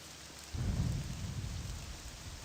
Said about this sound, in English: like here, there was a bit of thunder, right?